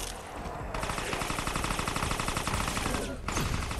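Rapid, loud gunfire blasts fill the whole moment in a Resident Evil Resistance match, dense repeated shots hammering almost without pause, with a short dip before the firing resumes.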